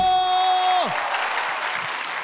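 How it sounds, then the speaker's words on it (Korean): A studio audience at a KBS music talk show taping claps loudly and steadily after a burst of music cuts off, the broadband applause sustained close and full throughout. "박수!"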